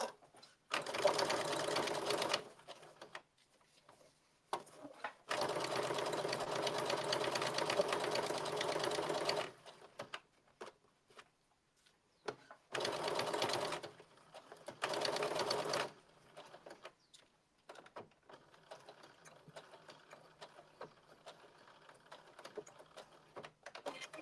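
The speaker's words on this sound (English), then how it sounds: "you're going to stitch 5/8 of an inch all the way across the shoulder seam" A sewing machine stitches a blazer shoulder seam at 5/8 inch in several separate runs, each a steady motor hum of a few seconds with short pauses and faint handling between bursts.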